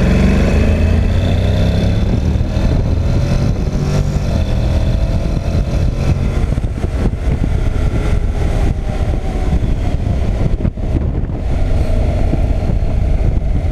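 A 2019 Honda NC 750 X motorcycle with DCT gearbox, carrying two riders, roars loudly and continuously in second gear, pitch climbing as it accelerates, with heavy wind rush buffeting the microphone throughout.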